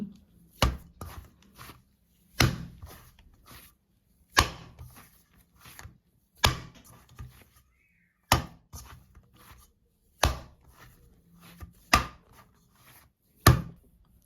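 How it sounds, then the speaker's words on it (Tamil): Dough for Jaffna modak is slapped down hard, about eight sharp, loud thuds at roughly two-second intervals with quiet gaps between, and no talking. "இப்போ மா நல்லா அடித்து எடுத்துட்டேன் ஒரு பத்து பன்னெண்டு தரம் அடிக்க காணும்"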